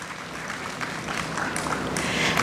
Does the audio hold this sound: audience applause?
yes